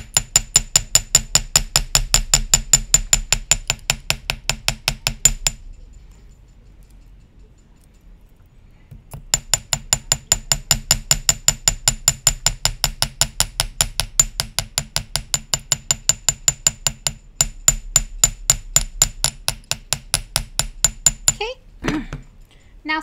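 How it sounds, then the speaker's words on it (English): A hammer strikes a wire bangle bracelet in fast, even, ringing taps, one long run, a few seconds of quiet, then another long rhythmic run that slows into scattered blows at the end. "Now, sometimes when you're hammering"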